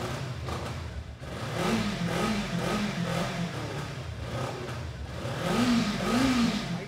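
A 2020 Benelli 600i twin-cylinder superbike on its stock exhaust revs up twice, its engine note rising and falling through a steady, fairly close rumble with no voices.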